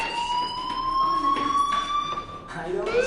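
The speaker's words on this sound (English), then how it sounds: "do you hear that fire alarm? That means you should be outside." A fire alarm in the video game Life is Strange wails as a rising and falling siren tone that runs through the whole stretch, loud and continuous with a pitch dip near the end.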